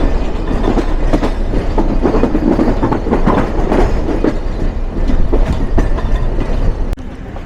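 The Nilsagar Express from Dhaka runs on the rails, a loud, steady rumble with rhythmic wheel clatter heard from on board, and no voices.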